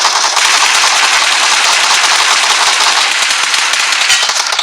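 Automatic gunfire in the video game PUBG Mobile, a rapid, continuous rattle of shots at a fast, even rhythm, loud and unbroken with no talk over it.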